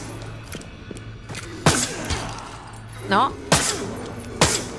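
Several sharp gunshots fired in the survival horror video game Tormented Souls 2, spaced irregularly, some followed by a thud or crash, with someone talking over them.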